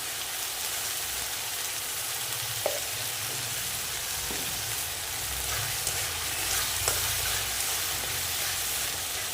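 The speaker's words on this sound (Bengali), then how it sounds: "মশলাটা এখন পুরো কষিয়ে নেব।" Spice paste with salt and turmeric fries in a pan for an egg and cauliflower curry, a dense continuous sizzle and crackle with a few faint scrapes, steady and close throughout.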